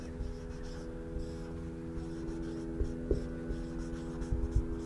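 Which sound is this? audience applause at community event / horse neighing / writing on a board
writing on a board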